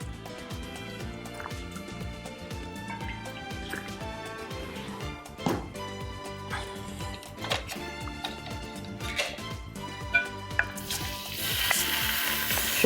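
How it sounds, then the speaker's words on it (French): Chopped onion frying in a pot in a mix of olive and sunflower oil, a steady close sizzle with crackles and occasional stirring clinks, growing hotter and louder toward the end. "On va placer l'oignon dans une marmite, on va le faire tomber."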